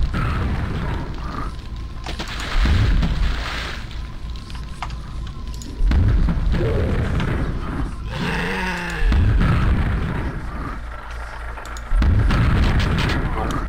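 Overpowered rockets blast in a video game, with several heavy booming explosions at roughly three-second intervals, each a loud deep thud with rumbling debris, while faint game noise hums between them.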